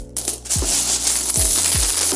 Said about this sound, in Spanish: Pero miren, cuántas monedas he juntado.